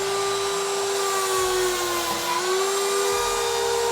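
A Safety Speed 101 Easy screw pocket machine bores a pocket hole in wood, a steady high motor whine with a slight dip in pitch as the bit cuts, loud and continuous throughout.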